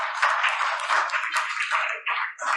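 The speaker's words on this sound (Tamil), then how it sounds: "பைலா டான்ஸ் ஆடின குட்டீஸுக்கு இன்னொரு தடவை ஒரு கைத்தட்டல் கொடுத்துடலாம்." Applause from a church audience at a Christmas celebration, cheering children after their Baila dance. Dense clapping fills the whole stretch, with a brief dip near the end before it swells again.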